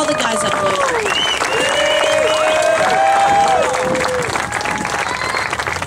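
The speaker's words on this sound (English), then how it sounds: "another big round of applause, please, for John Dady and all the guys at Blosian" Audience applause at an awards ceremony, a loud, sustained wash of clapping lasting the whole stretch, with cheering and overlapping voices of the crowd mixed in throughout.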